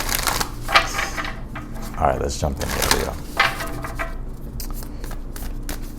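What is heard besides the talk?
shuffling tarot cards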